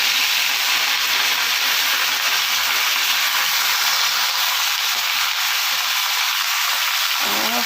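Moringa leaves fry in a pan of hot oil with nigella seeds and bay leaves, giving a loud, steady sizzling hiss that lasts the whole stretch.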